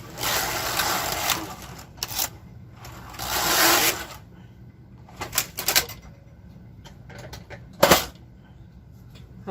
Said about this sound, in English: I'm going to knit 2 rows and then I'm going to park the yarn.